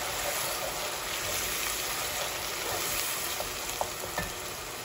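Onions with a spoonful of turmeric sizzle and fry steadily in a pan, a dense continuous hiss with a few faint stirring clicks near the end.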